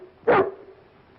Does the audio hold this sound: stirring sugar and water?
no